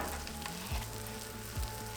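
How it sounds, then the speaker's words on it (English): Sausage patties sizzle steadily on a flat top griddle, a constant close frying hiss with two brief low thumps of a spatula, no voices. "And then we're going to lay down our sausage patties."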